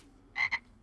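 A toad croaking in the Dragon Ball Xenoverse 2 video game after a character transforms into one: two short, close, buzzy croaks in quick succession, heard alone.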